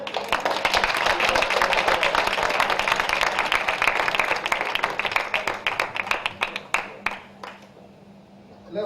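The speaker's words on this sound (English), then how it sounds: "Give a round of applause" A panel audience claps in a dense burst that thins into scattered, separate claps and fades out near the end, with a voice faintly present beneath.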